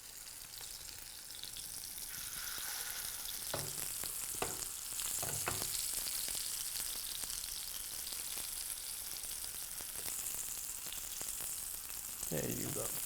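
A chicken burger patty fries in a pan with a constant, fairly quiet crackling sizzle that runs throughout, with a few brief bursts of louder spattering.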